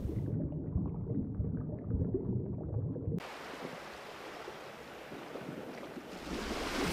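Ocean waves and surf, a continuous rushing wash heard at moderate loudness, muffled and low in the first half, then brighter and hissier with wind noise on the microphone.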